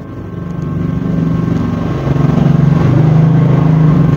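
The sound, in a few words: motorcycle passing by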